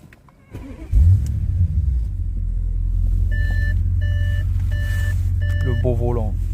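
An Audi S8's engine cranks and catches with a loud burst, then settles into a deep, steady rumbling idle close by, while a series of four regular electronic chimes sounds and a voice speaks briefly near the end.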